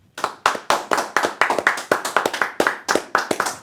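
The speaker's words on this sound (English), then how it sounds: "give me a round of applause to welcome Safa" A small studio audience claps to welcome a guest on a live music talk show, a sparse handful of distinct, close hand claps in an uneven rhythm with no voices.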